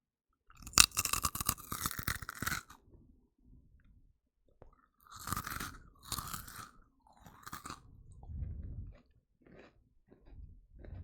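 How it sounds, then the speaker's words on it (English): Nuts crunched and chewed close to the mic during an ASMR eating session, with loud dense bursts of crunching in clusters separated by quieter chewing and mouth noises, no talking. "You're gonna hear the crunch of this nut."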